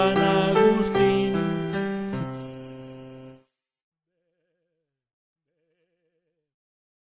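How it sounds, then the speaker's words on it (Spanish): A sheep's bleat in a Spanish children's rhyme-song about the lamb of San Agustín, sounding as a strong, wavering call over music for about three seconds, then silence. "que canta el borrego de San Agustín"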